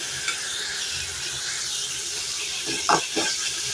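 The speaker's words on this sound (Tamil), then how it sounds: "இதையும் கொஞ்சம் எண்ணெயில் போட்டு வாசனையாக இருக்கும்" Ginger garlic paste frying in oil for a crab gravy gives a steady close sizzle and hiss, with two brief louder bursts of stirring near the end.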